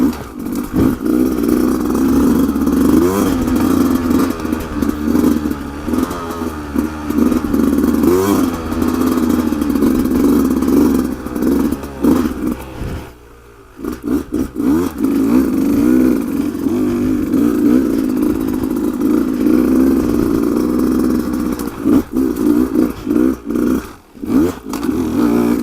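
A 2019 Beta 200RR dirt bike engine revs loudly and continuously while ridden, rising and falling with throttle blips, with a brief dip where the revs drop before climbing again.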